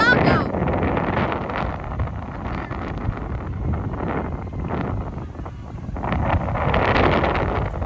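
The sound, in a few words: strong wind during a Texas thunderstorm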